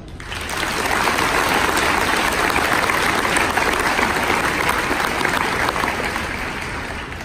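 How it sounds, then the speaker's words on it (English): An audience claps a sustained round of applause, building quickly after a soft start and then holding a loud, dense, even wash of hands before easing slightly at the end. "Round of applause."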